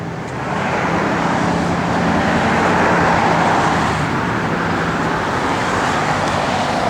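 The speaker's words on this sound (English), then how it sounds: "just a pleasure to drive, man. This thing just rolls down the street" A 1963 Buick Riviera with its original automatic transmission cruising down a street, heard as a steady, loud rolling rumble of engine and road noise from inside the car, swelling slightly midway.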